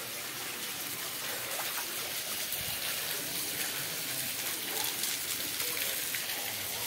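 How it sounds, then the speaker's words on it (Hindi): Heavy rain falls in a steady, dense hiss at the tomb complex in Khuldabad, Maharashtra, a broad, even wash of sound lasting several seconds with no clear speech. "बारिश हो रही है बहुत ज़्यादा।"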